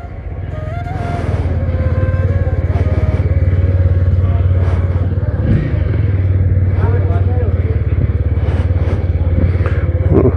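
A motorcycle carrying a rider and a five-year-old daughter drones steadily along the road on a long trip, its engine a constant low hum with occasional rattles, while a voice talks over it.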